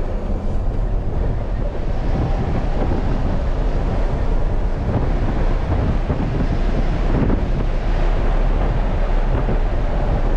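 A 700 hp electric semi truck accelerates hard, giving a constant loud roar of road and wind noise heard from inside the cab that swells a little without any engine pulses.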